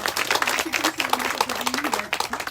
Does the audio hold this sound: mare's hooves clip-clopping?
no